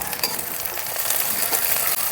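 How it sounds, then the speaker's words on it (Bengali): Sliced onions, garlic cloves and green chillies fry in a pan for a small river-fish curry, a steady bright sizzle with faint scraping stirs, and no talking. "পেঁয়াজগুলোকে হালকা একটু ভেজে নেওয়ার পরে দিয়ে দিলাম কয়েকটা রসুন কোয়া"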